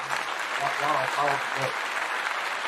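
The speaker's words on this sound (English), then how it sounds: "Can you please clap it up for yourself?" A studio audience claps on a talk show, steady dense applause throughout, with a voice speaking over it in the first half.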